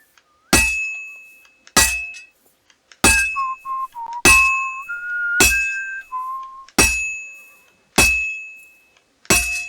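Metal is hammered on an anvil during forging in Kingdom Come Deliverance II, nine sharp ringing strikes spaced about a second apart, loud and close, with a short whistled tune between some blows.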